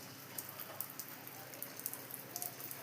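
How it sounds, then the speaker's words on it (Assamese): Rain falls steadily, a soft even hiss with scattered sharper drops ticking on a surface, fairly quiet and uninterrupted. "চাওকচোন এনেকৈ যদি বৰষুণ দিয়ে"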